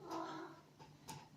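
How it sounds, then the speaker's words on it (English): A cat meows close by indoors, a short faint cry followed by a couple of quieter chirps within about a second and a half. "Meowing right next to me."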